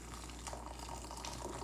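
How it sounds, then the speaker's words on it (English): Brewed tea made from boiled loose leaves is poured into a cup, a steady, close trickling stream of liquid that runs without pause across the short stretch, fairly quiet and without speech. "it's boiled, like it's brewed, and then you pour it in a cup"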